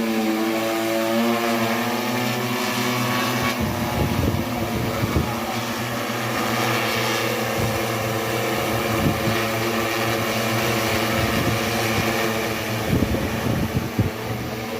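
An agricultural drone flies over farm fields spraying pesticide, its steady loud propeller drone humming and whining continuously throughout, with brief rustling bursts under it and no voices.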